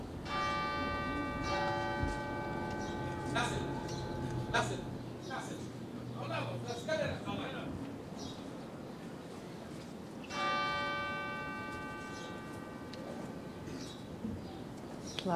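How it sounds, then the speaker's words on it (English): Cathedral bells ring out over a quiet plaza, their sustained tolling strikes recurring at intervals and fading between, with a voice narrating over them. "with only the sounds of the bells of the cathedral"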